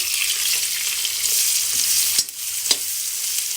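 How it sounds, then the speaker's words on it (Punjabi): Chopped onions sizzle and fry steadily in a hot pan for an aloo capsicum sabji, with a few brief stirring scrapes near the end and no talking. "ਆਪਾਂ ਪਿਆਜ਼ ਹੀ ਐਡ ਕਰ ਰਹੇ ਹਾਂ ਤੇ ਇਹਨਾਂ ਨੂੰ ਆਪਾਂ ਚੰਗੀ ਤਰੀਕੇ ਦੇ ਨਾਲ ਭੁੰਨ ਲਾਂਗੇ"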